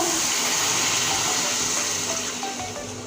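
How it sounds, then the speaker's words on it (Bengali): Water poured from a vessel into a pot of rohu fish curry with potato and bottle gourd, a steady close splashing gush that runs for about three seconds with no talking. "এবার জল দিয়ে দিচ্ছি পরিমাণ মতো"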